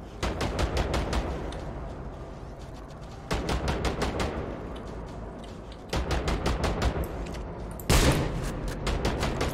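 Automatic turret fire in INSOMNIA: The Ark rattles out in rapid, sustained bursts, several long volleys broken by short gaps, loud and close with a heavier boom late in the sequence.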